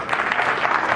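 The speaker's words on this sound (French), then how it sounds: "Applaudissements pour Monsieur le maire." Brief burst of crowd applause at an official ceremony honoring a mayor, a dense patter of many hands clapping at moderate loudness.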